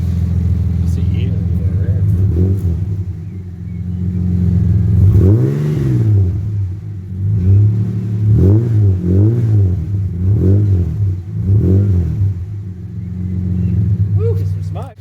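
An AU Ford Falcon fitted with extractors and a high-flow catalytic converter idles with a loud, close, deep exhaust rumble, then revs in a series of short blips that rise and fall. A voice talks over parts of it.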